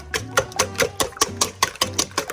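Eggs are whisked by hand in a tilted bowl for a French-style omelette. A wire whisk clicks against the bowl in about ten quick, regular strokes, close and fairly clear.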